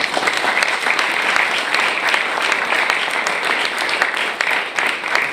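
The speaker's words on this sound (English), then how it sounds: "I think it's worth giving yourself a great hand of applause" Graduation audience of the American Graduate School in Paris applauding, a loud, continuous roar of many hands clapping, dense and steady across the whole stretch.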